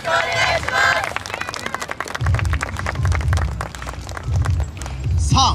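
Audience clapping along in steady rhythm at an outdoor yosakoi dance festival in Edogawa, mixed with loud festival music and crowd noise, with a brief shout near the end.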